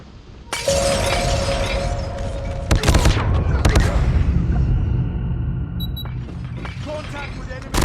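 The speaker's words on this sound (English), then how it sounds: "Flashbang!" A flashbang grenade goes off in a video game with a loud, sharp burst of shattering crackle, followed by further bursts and rattling gunfire-like cracks over a noisy scene.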